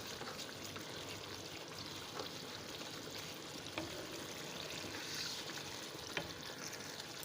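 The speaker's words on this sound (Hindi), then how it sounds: "मसाले को अच्छी तरह भून लेंगे" Masala paste being fried in oil for paya curry, the yogurt water cooking off, with a steady, faint, continuous sizzle and a few soft clinks of stirring.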